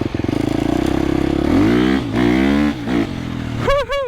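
A 2025 KTM 350XCF dirt bike engine idles with a rapid pulsing putter, then revs up in rising and falling bursts, ending with sharp high-pitched blips near and loud.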